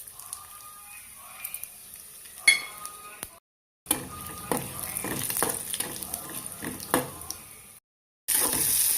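Chana dal and urad dal with cumin crackling and sizzling in hot smoking sesame oil in a kadai, a steady frying hiss with light clinks and pops, broken by two short silent gaps.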